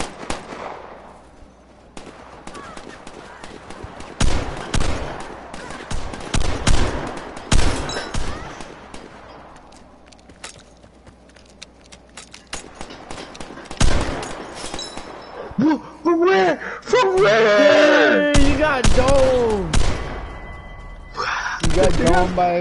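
Sharp gunshots in the video game Vigor crack out singly and in short clusters, loud and close, separated by quieter stretches, with someone talking over the later part.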